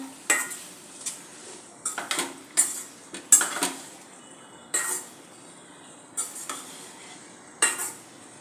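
Matki (moth bean) sabzi being mixed in a pan, with a spoon scraping and clattering against the metal in irregular bursts, close and fairly loud over a faint background, no talking.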